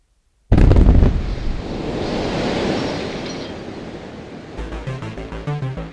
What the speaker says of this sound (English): The loud bang seems to have come from the engine area.